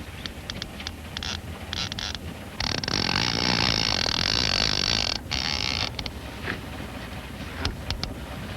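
Fishing gear creaks and groans under the strain of a hooked fish, a strained grinding swelling loud through the middle amid wind buffeting the microphone, with short sharp clicks around it.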